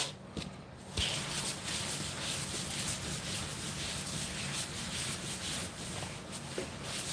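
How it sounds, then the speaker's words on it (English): A table is scrubbed with a steady, close rubbing hiss that keeps going without a break, and no voice is heard over it. "Scrubbing the table up."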